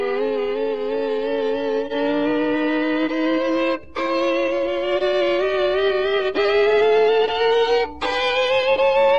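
A fiddle imitates gears grinding during a gear shift, playing sustained, scraping bowed tones that slowly rise in pitch. It repeats in several long strokes with brief breaks between them, loud and unaccompanied.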